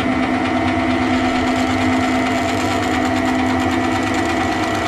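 Myford Super 7 lathe drilling under carriage power feed: a steady, loud mechanical whir with a constant motor hum and faint rhythmic ticking, running unbroken without talk.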